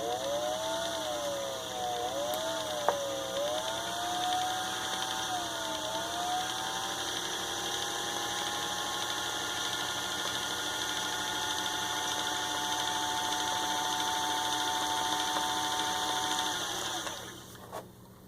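A vintage Singer 401 sewing machine winds a bobbin with a steady, continuous motor whir that rises slightly in pitch early on, holds even for about sixteen seconds, then spins down and stops near the end.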